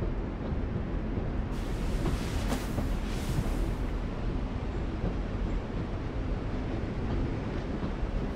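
Train in The Walking Dead video game: a continuous heavy low rumble and rolling drone, steady and loud throughout, with a brief brighter hiss swelling midway.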